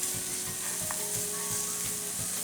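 Bacon cooking in a pan over medium heat, its fat rendering with a dense, even crackling sizzle that holds steady throughout, close and alone.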